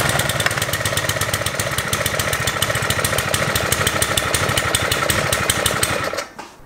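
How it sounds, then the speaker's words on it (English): A small engine fitted to a motorized cooler runs loud and close with a rapid, buzzy, chainsaw-like putter, then sputters out and dies near the end after the choke is turned off. "as soon as I turn the choke off, it dies."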